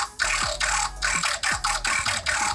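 A dubstep synth run through a frequency shifter with a high-pass EQ, bass cut away, gives a series of choppy, gated bursts of gritty, buzzing noise with falling pitch sweeps, about seven pulses in a stuttering rhythm, loud and up front.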